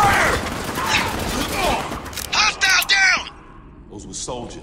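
Gunfire from the Spec Ops: The Line video game, dense and loud bursts filling the opening seconds, with shouted voices and dialogue breaking through over the shooting.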